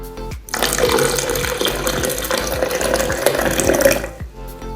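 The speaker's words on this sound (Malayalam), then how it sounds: "നമുക്ക് ജ്യൂസിന് ആവശ്യമായിട്ടുള്ള വെള്ളം ഒഴിച്ചു കൊടുക്കാം" Water pours steadily into a container for a few seconds, a continuous splashing rush with faint clinks at the start and end.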